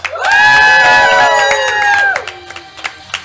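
A live game show audience cheers loudly, with sustained high voices whooping together for about two seconds before breaking into scattered claps and shouts.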